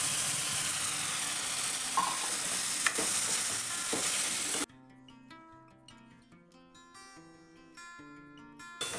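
A dry potato vegetable dish spiced with turmeric, chilli and garam masala cooks in a pan, sizzling and scraping under stirring for several seconds before the sound drops to a much quieter, sparse background.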